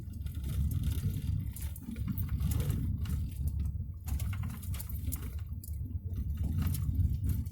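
A vehicle on the Drummond frontage road, a gravel road with washboarded ruts, rattles and drones steadily at close range, with a continuous low rumble and dense jittery clatter throughout and no talk.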